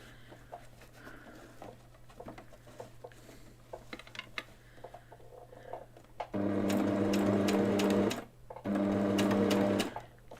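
A domestic sewing machine stitches in two steady bursts, a loud continuous mechanical whir lasting about two seconds each with a short pause between, following a quieter stretch of faint handling noise.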